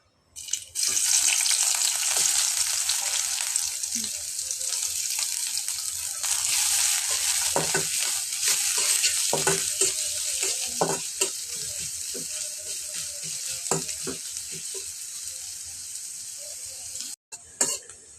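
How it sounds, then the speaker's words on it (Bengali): Onions fry in oil in a wok for Bengali polao, a loud continuous sizzle with frequent stirring scrapes and clinks that eases slightly toward the end. "কড়াইতে তেল দিয়ে দিছি পেঁয়াজগুলো বেরাস্তা করে নিব"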